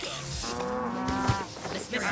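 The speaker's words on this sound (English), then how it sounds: "cows go moo" A single drawn-out cow moo, loud and close, rising and falling over about a second, with no talk over it.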